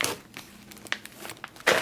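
Plastic MRE (Meals, Ready to Eat) packaging bags crinkle close at hand in scattered soft rustles and a few sharper crackles, ending in a louder crumple, with no talk.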